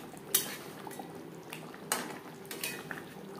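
A spoon clinks and scrapes against a pot while garam masala and chopped coriander are stirred into katla fish curry gravy, with a few sharp metallic knocks over a low kitchen hiss.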